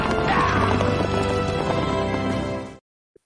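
Horses gallop with clip-clop hoofbeats and whinnying, loud and close, continuous for nearly three seconds before cutting off abruptly.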